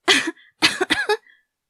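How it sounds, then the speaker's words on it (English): Several people coughing in reaction to an overwhelming foul smell from a shattered jar filling a room, a burst of close, harsh coughs in quick bursts with brief pauses. "everyone began to cough"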